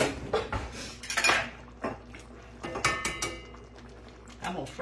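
Kitchen utensils and cutlery clatter and clink in a drawer as someone rummages for a spatula, bursts of metallic jangling come and go in uneven clusters, close and moderately loud.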